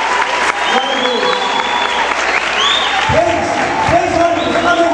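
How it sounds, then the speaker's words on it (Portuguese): Loud, continuous clapping fills a big hall at a state youth congress, with shouting and an amplified voice carrying over the crowd's applause. "Mais uma salva de palmas"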